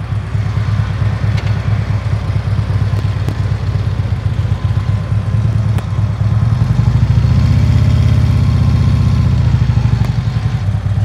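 A Harley Road Glide motorcycle idles through a slow U-turn with the clutch disengaged, its deep lumpy V-twin thump loud and steady, swelling slightly partway through, with no speech.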